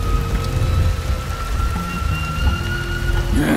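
Heavy rain pours steadily in Shadow Tactics: Blades of the Shogun, a dense hiss of drops on surfaces with low rumbles underneath. It continues unbroken, with no voices.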